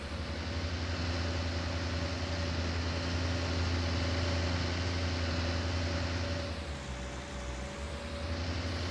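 Tractor engine in Farming Simulator 19 running at a steady drone while it drives over a silage pit, loud and continuous throughout, with a slight shift in tone near the end and no talking.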